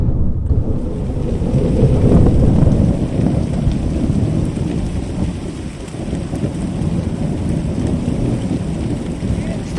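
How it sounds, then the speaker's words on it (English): Steady heavy rain from a storm with low rolling thunder rumbling throughout, loud and close, with some wind buffeting the microphone and no clear speech. "I think there's gonna be thunder"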